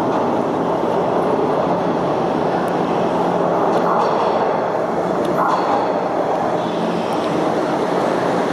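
Loud, continuous rumble and roar of a moving Toronto TTC subway train, with screeching and clattering rising over the steady din.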